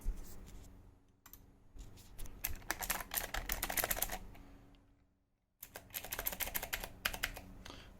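Rapid clicky typing on a Cherry MX Blue mechanical keyboard pad, bursts of sharp key clicks close up, with a brief pause before the typing resumes.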